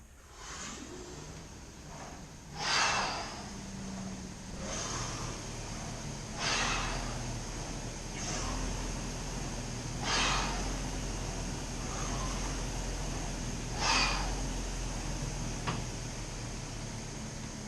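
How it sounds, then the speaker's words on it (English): Periodic loud breaths, one per two strokes on a SkiErg, over a steady whirring machine hum, with swishing exertion sounds in between. "you are taking a single breath per 2 strokes on the SkiErg"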